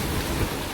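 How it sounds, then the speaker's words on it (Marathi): Rain falls onto a home's open gallery as water starts coming in, making a steady, moderately loud wash of noise with no talking. "आता पाऊस आलाय बघा, आणि गॅलरीमध्ये पाणी येतंय."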